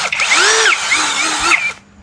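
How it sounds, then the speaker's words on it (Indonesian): A cordless brushless MLHY 21V drill bores into hard wood, a loud steady whine with shifting pitch sweeps as the motor loads and frees, running close for under two seconds before cutting off. "apalagi kalau kayu-kayunya keras banget kan, kita bor"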